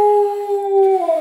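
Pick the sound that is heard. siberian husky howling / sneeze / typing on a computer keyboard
siberian husky howling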